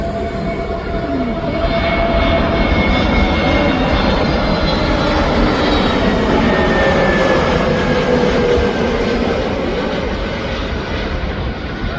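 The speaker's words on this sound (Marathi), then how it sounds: "दुसरा विमान उतरताना आपण बघतोय" A loud, continuous roar of a jet airliner landing nearby at Navi Mumbai airport, engine rumble filling the whole stretch with a faint rising whine.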